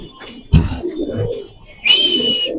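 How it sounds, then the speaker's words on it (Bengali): Pigeons, including white Bombay pigeons, at a large pigeon farm in Mirpur make low cooing murmurs amid nearby rustles, with a sharp whistling tone rising toward the end. "মাশাআল্লাহ খুব সুন্দর হোয়াইট মুম্বাই কবুতর ভাই"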